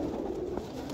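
Pigeons coo softly in a steady, low, throaty murmur, close by and continuous, with no one talking.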